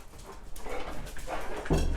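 Indoors in a studio, a hyper dog whimpers and gives short muffled yips, building to one louder bark at the end over light background noise.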